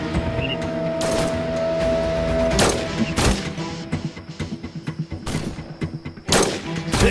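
Sniper rifle shots in the video game Sniper Arena crack out as several loud, sharp blasts with ringing tails, spaced irregularly over game sounds.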